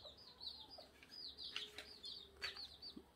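Chickens and chicks cluck and chirp inside a small backyard coop built for raising chicks, with frequent high peeping calls over soft clucking and occasional brief flutters, close and moderately quiet.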